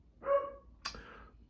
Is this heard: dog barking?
yes